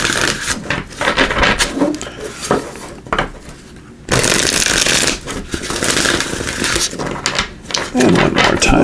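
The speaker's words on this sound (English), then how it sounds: "Let me just give these a shuffle." Cards riffled and shuffled repeatedly in quick bursts, a crisp flapping clatter close to the microphone, with brief pauses between shuffles.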